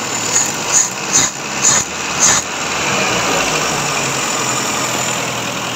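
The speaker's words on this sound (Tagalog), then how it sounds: "Masyadong mataas yung idle, bababa na lang natin." A Toyota 4K engine in an owner-type jeep, set to idle too high, revs in several quick blips, then settles into a steady, close, fairly loud high idle hum.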